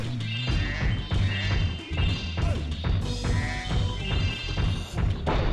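Repeated crashing smashes of breakable objects in Spyro: Year of the Dragon, Bamboo Terrace level, loud thuds and cracks arriving in quick succession over game music.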